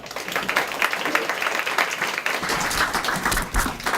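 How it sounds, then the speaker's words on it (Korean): Students and parents at a cram-school event applaud a speaker being introduced, giving steady, close and fairly loud clapping from many hands that runs throughout the four seconds. "큰 박수 부탁드립니다."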